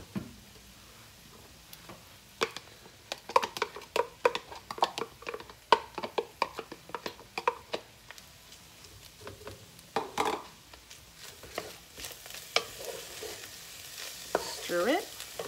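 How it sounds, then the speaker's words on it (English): Onions frying with ground beef in a one-pot meal, a faint steady sizzle broken by repeated scraping and clacking of a utensil stirring in the pan, close by with no talking. "throw some onions in."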